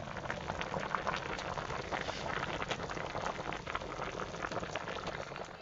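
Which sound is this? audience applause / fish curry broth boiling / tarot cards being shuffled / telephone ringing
fish curry broth boiling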